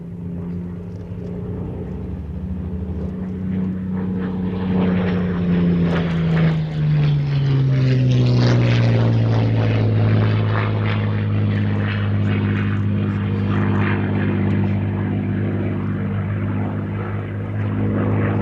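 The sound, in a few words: Spitfire fighter aircraft flying at airshow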